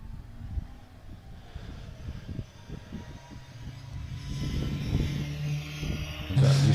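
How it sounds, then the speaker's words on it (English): A 1-litre Mini racing car climbs toward the finish at a hillclimb, its steady gearbox whine rising and growing louder as it approaches, with a sharp loud burst at the very end. "That distinctive gearbox whine from the Mini as he heads towards the finish."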